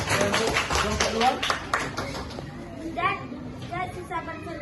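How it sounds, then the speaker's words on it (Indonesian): A classroom of children claps for a group, a burst of scattered applause with quick taps at the start, then children's voices and chatter taking over as the clapping fades. "Tepuk tangan untuk kelompok dua."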